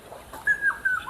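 A jungle babbler calls beside a village river: a few brief, thin chirps over quiet outdoor background.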